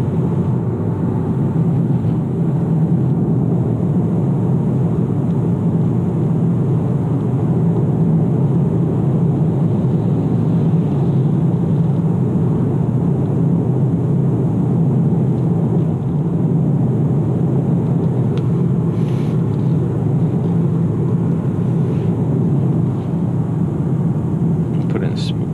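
A 2017 Kia Optima SX Limited engine accelerates on a test drive, heard from inside the cabin as a continuous low rumbling drone with road noise.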